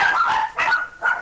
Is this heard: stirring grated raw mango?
no